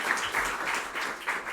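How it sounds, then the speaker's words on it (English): At a job-market workshop, a crowd applauds the speakers with moderately loud, steady clapping that swells in small waves, with no voices heard. "Give them a round of applause for the speakers."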